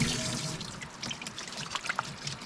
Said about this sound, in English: This is my kitchen sink. And what's cool about it is it has hot water.